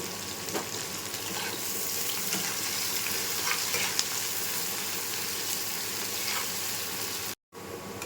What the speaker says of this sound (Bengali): পেঁয়াজ আর রসুনটা ভাজা হয়ে গেছে।